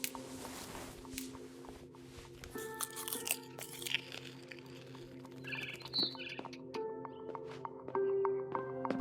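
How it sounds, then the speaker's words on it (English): A barn swallow's chirps from outside a window in the video game What Remains of Edith Finch, faint tweets mixed with crunchy eating sounds and other game noises. "Then I heard chirping outside my window. It was a barn swallow going back to her nest."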